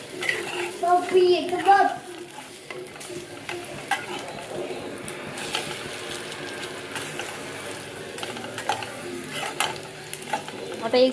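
Crispy bitter gourd slices shallow-fry in a pan with a steady, moderate sizzle, broken by clicks and scrapes of stirring and turning against the pan throughout.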